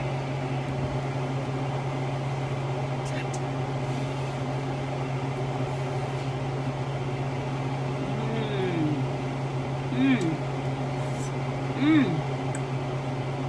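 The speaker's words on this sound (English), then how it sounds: "I'm just going to zap them in the microwave to soften them up" A steady mechanical hum of a running microwave oven heating tortillas drones throughout, with a few faint voices and small clicks over the constant tone.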